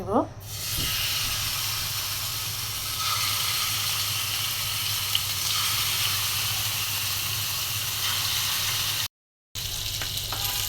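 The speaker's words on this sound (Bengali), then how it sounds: "মাছটা উঠে দিচ্ছি বেশি কড়া করে ভাজবো না হালকা করেই ভাজবো" Fish shallow-frying in a pan in a home kitchen gives a loud, steady sizzling hiss throughout, with a clatter at the start and a brief dropout near the end.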